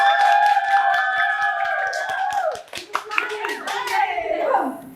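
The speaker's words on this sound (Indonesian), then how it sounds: "tepuk tangan dulu buat temannya biar semangat." Children in a classroom clap together in a quick, even rhythm for a classmate, close and loud, while young voices sound over the claps before the clapping fades into chatter.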